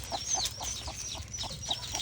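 Chickens cluck in short repeated bursts nearby, with faint chirps and peeps layered over a low ambient rumble.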